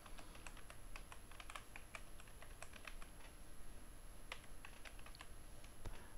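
Rapid, uneven keystrokes on a computer keyboard as a web address is typed, close and fairly quiet, with no one talking.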